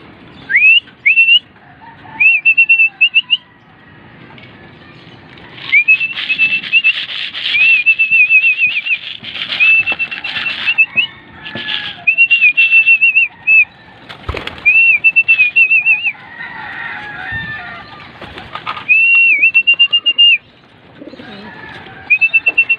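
Pigeons feeding at close range, with repeated bursts of flapping wings and scattered whistles and coos over steady shuffling and pecking noise, and no talk.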